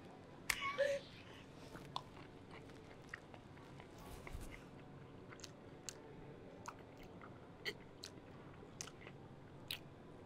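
Quiet chewing and crunching of food, likely sunflower seeds, with sharp crunchy bites spread through the stretch and a few louder ones near the start, close to the mic with faint breathy sounds between.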